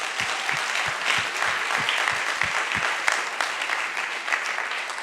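A small group applauds at a council meeting in Budapest, standing for those in charge of feedback; steady, fairly dense clapping fills the whole stretch at moderate loudness, with no talking over it.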